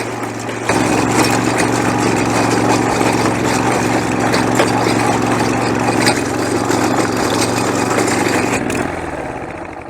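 A large rotavator tiller, an Alkylate MH770, roars loudly and continuously as its tines dig into easier soil, a steady close engine drone with gritty churning texture that cuts off abruptly near the end.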